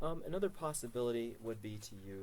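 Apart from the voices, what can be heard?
No everyday noise stands out behind the speech.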